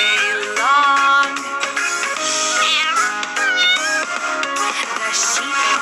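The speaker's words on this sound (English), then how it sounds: "The cat on the farm goes meow, meow, meow, all day long." A cat meows repeatedly with drawn-out, rising and falling calls, loud and close, one after another over a steady backdrop.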